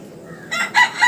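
A rooster crows nearby in short rising bursts, loud and clear over a quiet background.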